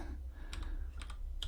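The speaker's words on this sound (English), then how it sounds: "type in PyMakr," A few quick keystrokes tap on a computer keyboard close by. They form a short burst of light clicks over a low steady hum, with no speech.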